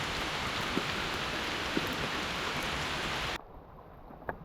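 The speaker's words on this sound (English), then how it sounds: "The rain is now down to a moderate rain" Moderate rain falls steadily on the Appalachian Trail in Virginia, a dense even hiss with occasional louder drops, cutting abruptly to quieter near-silence near the end with a faint patter.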